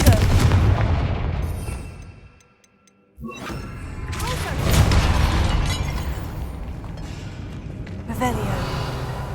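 In the Hogwarts Legacy video game, the Confringo fire spell is cast repeatedly, giving loud, booming fiery blasts. A brief near-silent gap separates them, and a later burst comes at the end.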